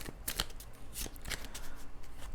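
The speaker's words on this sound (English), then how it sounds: "Whenever you're shuffling your deck, you want to make sure you have your own way of doing it." A tarot card deck being shuffled by hand, quick crisp riffling bursts and soft slaps in irregular succession, close and quiet.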